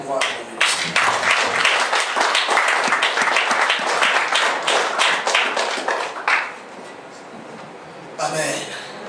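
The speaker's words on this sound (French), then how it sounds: "Est-ce qu'on pourra acclamer le Seigneur?" A church congregation bursting into loud, sustained applause and rhythmic clapping to acclaim the Lord, lasting several seconds before fading, with a short renewed flurry of claps near the end and voices mixed in.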